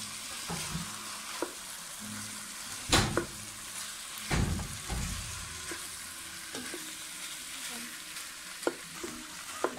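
Chicken sautéing in a pot with chili, a quiet steady sizzle broken by a few loud scraping and clanking stirs of a spoon against the pot.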